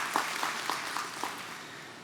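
A church congregation applauding to welcome guests during a Sunday service, a soft, fairly distant wash of clapping that holds steady and slowly fades.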